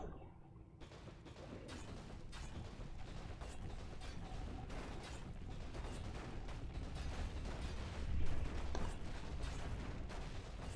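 Cannon fire in a video game, a continuous barrage of rapid booming shots and mechanical clatter, dense and unbroken, with one heavier blast standing out late.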